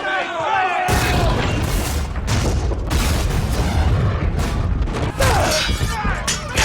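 Ship's cannons fire in a loud, continuous barrage of booming blasts, several heavy shots overlapping in rapid succession amid battle noise, with voices audible underneath.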